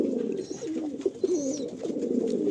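Madrasi Andhra pigeons cooing steadily in a loft, soft rolling low coos repeating close by with no talk.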